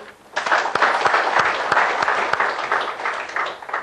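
Audience applause at a televised business forum in India, a steady dense wash of clapping hands that starts abruptly and holds loud and even to the end, with no talk over it.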